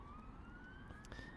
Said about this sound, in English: that noise you can hear is the ambulance